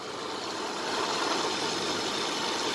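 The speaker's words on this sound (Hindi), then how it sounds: "और इंजन का साउंड नोट करना" Car engine idling with diesel run in place of engine oil, a steady rough running drone with slight knocking texture, close and continuous without pauses.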